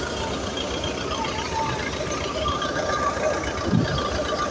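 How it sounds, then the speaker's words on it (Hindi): A tractor engine running under strain and struggling as if out of diesel, a continuous low rumble with uneven pulsing and a brief rough surge near the end, heard close up and alone. "ऐसा साउंड कर रहा है जैसे डीजल ख़त्म हो गया है।"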